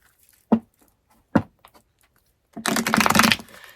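Two soft taps of a tarot deck being handled, then a close, dense riffle as the cards are shuffled for about a second in a quiet room.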